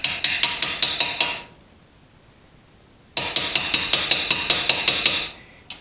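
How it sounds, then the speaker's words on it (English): A small hammer strikes a 1/4 inch punch to drive out the rear brake pad pin on a Porsche 987 Cayman/Boxster. Sharp metallic taps ring close and loud in two quick bursts of about seven evenly spaced blows, separated by a short pause. "we're just going to take the punch and then hammer out this pin just like so."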